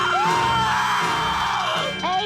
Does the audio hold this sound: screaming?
yes